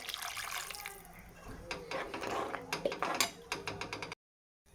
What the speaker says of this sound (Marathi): तर बघू शकता मी भरपूर पाणी ॲड केलेलं आहे